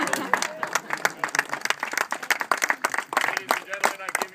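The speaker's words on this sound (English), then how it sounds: "may I please hear a round of applause for my personal assistant" Audience applause at a ship naming ceremony, with brisk, uneven clapping mixed with voices and crowd murmur throughout.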